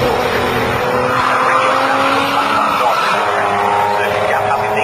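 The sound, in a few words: Jaguar XJS and saloon race cars passing at Donington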